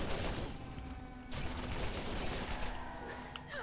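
Scorpio turret from Borderlands 2 firing in dense, continuous bursts of video-game gunfire, loud and steady throughout with a brief dip near the middle.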